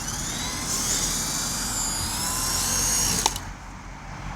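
A small toy drone flying close by, its steady high-pitched rotor whine holding for several seconds before a brief bump and a sudden drop in level as it loses balance, likely low on battery.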